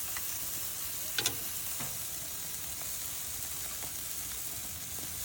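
Chicken and filet mignon seasoned with salt and pepper sizzling on a grill, a steady close crackling hiss with a few faint pops and ticks, no talk.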